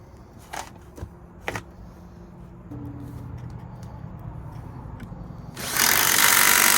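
A power drill runs steadily at a low hum with a few clicks and bumps, then a loud, bright whirring surge takes over near the end.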